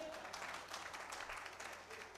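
A seated audience at a business seminar claps for Gagan ji, a faint, brief patter of many hands under low room murmur, fairly distant and short-lived.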